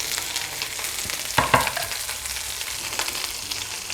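Curry leaves, green chillies and shallots sauté in a pan with a steady broadband sizzle, interrupted around the middle by a brief burst of spatula stirring and clinks.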